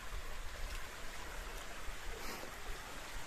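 A river, Sungai Purba, flows through a forest on the border of Nganjuk and Jombang. Faint, steady rushing water fills the scene as an even wash of noise, with no voices.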